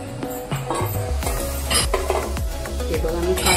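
Fried gulab jamun lifted out of hot oil in a pan, with repeated clinks of a metal spoon against the pan over a steady sizzle, close and fairly loud, a voice talking briefly.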